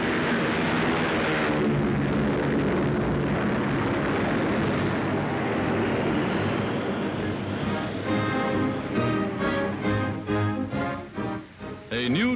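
World War II era aircraft take off down a runway on an outward bound mission, a loud continuous roar of engines filling the clip, with someone speaking over it near the end.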